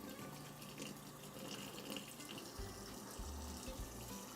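A sink tap runs steadily to rinse coffee grounds off a cold brew maker filter, a continuous close splash of water with no talking.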